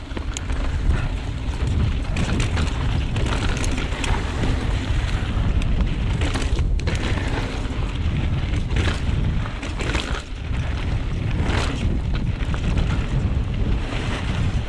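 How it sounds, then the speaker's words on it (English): Wind buffets the microphone of a rider on a motorbike, making a loud, continuous, rumbling roar that stays fairly constant throughout. "Oh, it's definitely windy."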